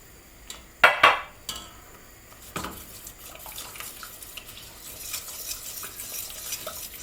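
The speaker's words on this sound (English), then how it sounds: "Stir that in. Add the rest of your milk." A spoon stirs milk into a pancake batter sauce seasoned with nutmeg. A couple of sharp clinks against the pan come first, then a soft, continuous swishing and sloshing of liquid near at hand.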